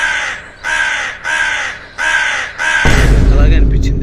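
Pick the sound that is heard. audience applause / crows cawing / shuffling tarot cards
crows cawing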